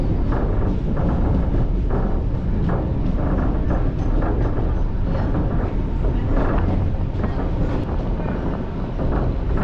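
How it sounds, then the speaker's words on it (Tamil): A Chennai suburban train runs into Pazhavanthangal station with a constant loud rumble and rushing wind noise, no talk over it. "சென்ட் தாமஸ் மவுண்ட்டுக்கு அடுத்ததாக இப்போ ட்ரெயின் உள்ள என்ட்ரு ஆகிறது பழவந்தாங்கல்."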